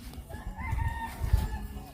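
Rooster crowing on a rural building site where sheets of corrugated zinc roofing are being counted, a drawn-out call heard at moderate distance over low background rumble.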